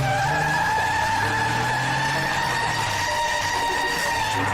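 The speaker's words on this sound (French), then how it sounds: "la plus illégale, d'utiliser des pneus Lego, c'est de faire des burn-out" A steady, sustained tire squeal with engine drone underneath, loud and continuous throughout, as small Lego tires spin in a burnout.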